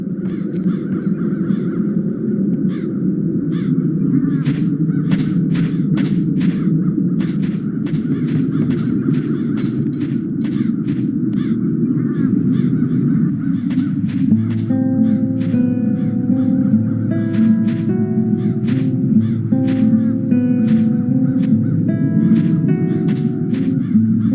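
Crows cawing in the video game The Dark Eye: Chains of Satinav, repeated sharp caws in irregular bursts over a steady droning ambient music bed, with a tonal melody entering midway.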